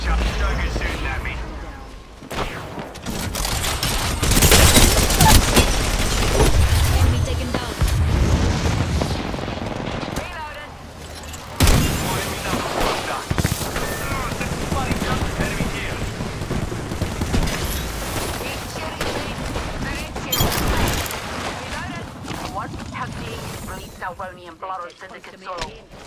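Gunfire in an Apex Legends match, with a loud flurry of shots and booming blasts rising and falling in waves, mixed with intermittent character voice lines.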